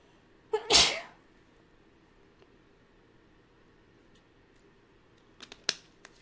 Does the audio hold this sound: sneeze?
yes